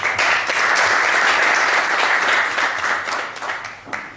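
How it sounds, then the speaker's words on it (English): A public-speaking club audience applauding a speaker, a dense wash of clapping that stays steady and loud for several seconds and then gradually thins out, heard without speech. "Some applause for him, please."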